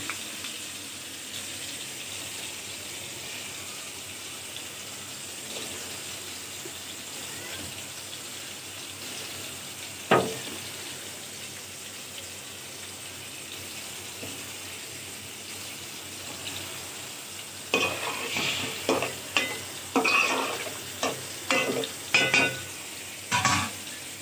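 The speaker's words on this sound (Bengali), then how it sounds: "এখন আমি ধুয়ে রাখা লাউগুলো দিয়ে দিব।" Washed bottle gourd pieces go into a pan of frying snakehead fish curry, with a low steady sizzle and then a burst of clattering stirring and splashing toward the end.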